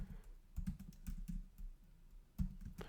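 Close keyboard typing, with irregular clusters of soft key taps over a low background hum and a short pause before a final burst.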